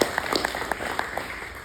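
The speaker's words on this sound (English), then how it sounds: "Look around, give them a round of applause." Brief applause from a conference audience for current and former board members at a local food and agriculture event, scattered individual claps standing out distinctly near the listener over a thin background of clapping.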